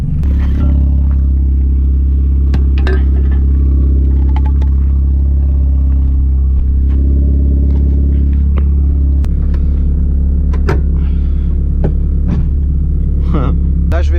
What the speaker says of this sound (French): elle démarre. L'alternateur il marche, j'ai même pas besoin d'accélérer. Et c'est parti.